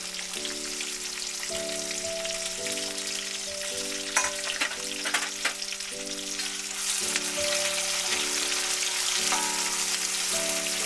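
A steady, crackling sizzle of onion and garlic frying in sesame oil, constant throughout with occasional stirring clinks and a sustained tonal hum behind it.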